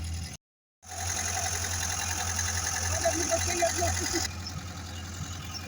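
A Zhiguli car engine running with a misfiring spark plug gives a steady, close, slightly uneven rhythmic chugging, cut briefly by a moment of silence near the start.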